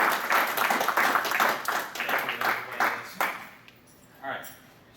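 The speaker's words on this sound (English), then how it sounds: "give Lynn a round of applause, guys" Audience clapping at an anime convention game show, a lively burst of applause for about three seconds that quickly tapers off, followed by a short faint patter and a voice.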